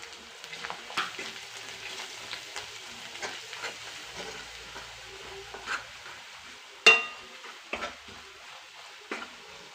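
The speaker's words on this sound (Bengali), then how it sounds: "আদা রসুন জিরে ভালো করে ভাজা হয়ে গেছে।" Ginger, garlic and cumin sizzling in a pan as turmeric and chili powder are added for a spicy okra (bhindi) curry, with steady frying crackle, stirring scrapes and a few sharper utensil clinks, close and moderately loud.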